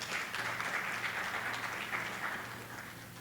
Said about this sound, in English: So let's give a hand of applause for these groups.